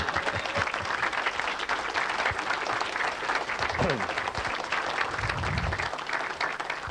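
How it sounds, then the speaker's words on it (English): Wedding guests give a sustained round of applause for the woman who baked the cake, dense clapping filling the room from start to finish, with a few voices and cheers mixed in. "Colette baked this cake, and I think that deserves a round of applause"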